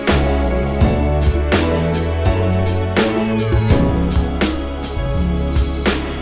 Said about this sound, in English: I added this ride hi-hat just to make it more jazzy.